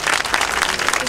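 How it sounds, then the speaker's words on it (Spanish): Crowd applause for a municipal president at a public address, a dense, loud burst of many hands clapping close by, sustained and even throughout. "Que se escuchen muy fuerte esos aplausos para nuestro presidente municipal"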